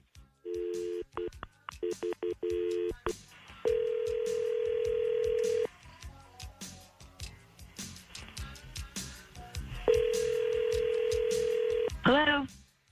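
Telephone keypad tones dial out in quick bursts, followed by long steady ringback tones for a call placed from a morning radio show, with brief chatter between rings.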